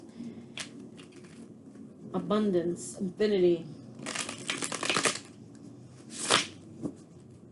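Tarot cards being shuffled by hand in repeated bursts of riffling and crisp card flicks, close and moderately loud, interleaved with a person speaking softly between shuffles.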